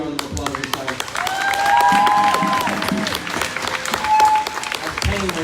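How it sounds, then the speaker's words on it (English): Crowd at an outdoor protest in Sunbury, Pennsylvania bursts into sustained applause with scattered cheers, loud and close, with voices shouting and talking through it and a steady rattle of many hands. "Give my man a bigger round of applause this time."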